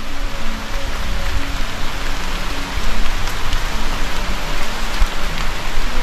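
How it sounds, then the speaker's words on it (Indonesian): Light drizzle falling outdoors at a secluded site beside dense forest, a loud, even, close hiss of fine raindrops that continues without pause. "Saya ditemani suara gerimis yang menyambut saya ketika eksplorasi di tempat ini"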